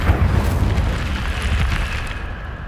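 A fire spell cast in Hogwarts Legacy erupts in a loud, close burst of roaring flame with a deep rumbling low end, sustained for a couple of seconds and fading slightly at the end.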